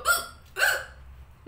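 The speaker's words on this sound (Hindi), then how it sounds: "अभी थोड़ी देर में मम्मी को हिचकी चालू हो जाएगी" Two sharp hiccups, a short gap apart, come from a woman after eating spicy pani puri at home. Each is a quick, close vocal catch with quiet between.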